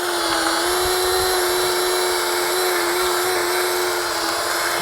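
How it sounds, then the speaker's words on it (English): A drill bores out rivets on an RV camper awning end cap, giving a loud, continuous high whine that holds steady and alone for the whole stretch. "Once you got them drilled out, you should be able to just pop off the heads"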